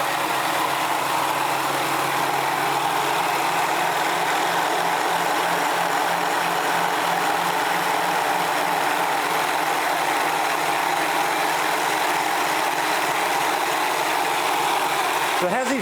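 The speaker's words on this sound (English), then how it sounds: "the motor can run for hours and doesn't get warm at all" Electric motor driving a Searl Effect Generator demo rig, a steady, continuous mechanical hum and whir with a low droning tone, running evenly and close throughout.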